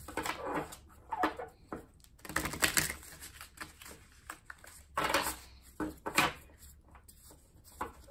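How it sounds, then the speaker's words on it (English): Tarot cards riffle and shuffle in short, crisp bursts, pausing briefly between each round, quiet and close. "Let's give it one more shuffle, and we're going to draw your cards."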